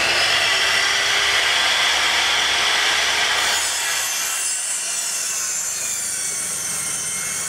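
Makita LS0815FL 110V mitre saw cutting a bevel through wood, a loud steady high-pitched whine for about three and a half seconds, then the blade spinning down with a softer fading hum, no talking.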